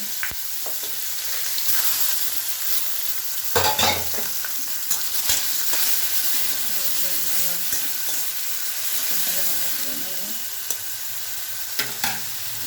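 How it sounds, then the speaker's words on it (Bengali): Onion paste frying in oil with whole garam masala and two bay leaves, a steady close sizzle broken by scraping stirs of a spoon in the pan, with no voices. "এই তেলের মধ্যে আমি গোটা গরম মশলা, দুটো তেজপাতা, পেঁয়াজ বাটাটা দিয়েছি,"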